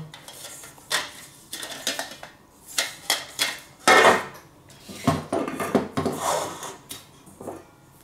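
Trangia 25 non-stick cookset pots and lid are handled up close, giving a run of irregular metallic clanks, scrapes and light knocks that come in quick clusters, some louder ringing hits among softer rubbing sounds.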